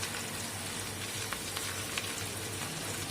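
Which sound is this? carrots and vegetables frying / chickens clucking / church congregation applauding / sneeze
carrots and vegetables frying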